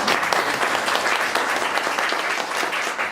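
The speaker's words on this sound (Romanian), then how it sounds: "Eu îi aplaud." Steady applause from a group of volunteers and elderly residents at a care home for the aged, dense clapping that stays even and continuous throughout.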